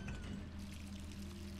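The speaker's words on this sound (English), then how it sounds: "is my water running?" Water running from a tap in the Resident Evil 3 video game, a soft steady pouring hiss with a faint low hum, heard alone.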